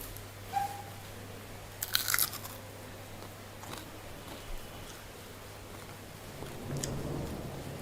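Crispy homemade spring onion rings bitten and chewed close up, with a sharp crunch burst near the middle and a few softer chews around it over a low steady hum.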